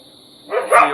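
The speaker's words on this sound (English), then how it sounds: "That are the dogs." One dog bark rises late in a short moment, fairly close and loud over low background hiss, with no talk.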